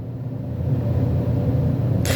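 A car engine idles steadily with the hood open, a loud, close, continuous low rumble with no speech.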